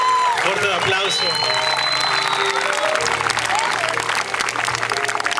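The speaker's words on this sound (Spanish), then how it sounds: "Fuerte aplauso." Crowd applauding at a school athletics festival opening ceremony, clapping mixed with whistles, cheers and background voices, fairly loud and continuous across several seconds.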